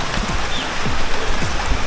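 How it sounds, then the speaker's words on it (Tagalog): Heavy rain pours outdoors beside a kangkong patch, a loud, dense, continuous hiss of falling water with scattered droplet splashes close by. "Kaso ito, maulan."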